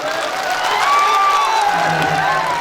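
A large crowd at a Holi stage show claps and cheers steadily throughout, a loud continuous wash of applause with whoops and shouting over sustained musical tones.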